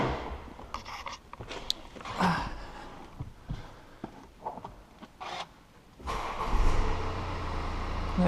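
A 2016 BMW X1 F48 with an automatic gearbox cranks into life and idles. Its engine stays low and steady with scattered handling noises, and a louder broadband rumble builds near the end as it pulls away.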